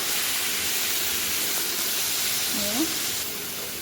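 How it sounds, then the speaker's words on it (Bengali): Onions frying with spices in a pan for a goat meat dish and being stirred, producing a steady soft hiss with a brief voice-like sound partway through. "পিঁয়াজখিনি আকৌ অকণমান সময় লৰাই ল'ম"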